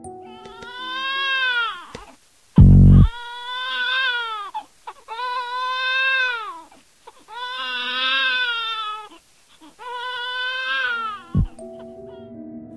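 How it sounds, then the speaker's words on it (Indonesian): A baby cries in the night-shift laundry shop of the horror game The Laundry Shift, wailing in five long, loud, close bursts separated by brief pauses, with a sharp thump early on and no talk. "suara tangisan bayi tiba-tiba terdengar"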